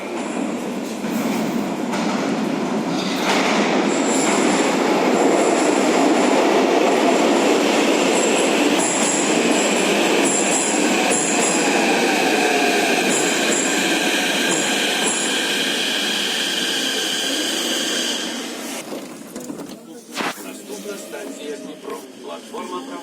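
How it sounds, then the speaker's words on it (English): A Kiev metro train with AC motors and variable-frequency drives runs steadily with a smooth electric motor whine and rumbling wheels, high tonal hums rising and falling, then slowing near the end. "they've had the motors replaced with AC motors with VF drives"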